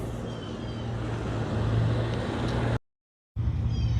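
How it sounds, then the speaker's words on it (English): A golf cart drives through a golf cart parking lot area near a recreation center in The Villages, Florida, its steady low motor hum and road noise continuous and close, cut by a brief silent gap near the end. "Let's go inside and take a spin."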